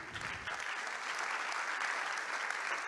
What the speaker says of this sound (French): Donc, Marie-Lila Vidal, que vous pouvez applaudir.